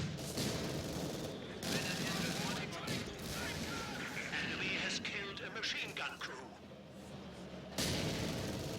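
A steady barrage of gunfire and Jagdpanzer tank-destroyer shots fills a Company of Heroes 2 match on the Semoisky Winter map, dense crackling volleys with a heavier blast near the end, while a voice talks over it.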